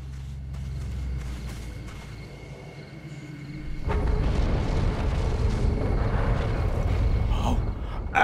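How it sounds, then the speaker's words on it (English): A Trine 2 earthquake in the Deadly Dustland desert: after quieter ambient rumbling, a deep, loud roar sets in and holds steady as the ground shakes. "Oh, an earthquake!"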